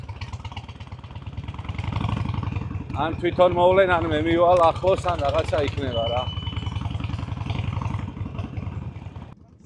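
A motorcycle engine idles and runs nearby with a steady low throb and rattling clatter, rising briefly in the middle, while someone talks over it at a campsite.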